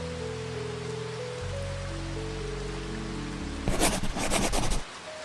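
Steady soft rain falling, a continuous hiss with low droning tones beneath, then a louder burst of rattling drops for about a second before easing back to a gentle patter.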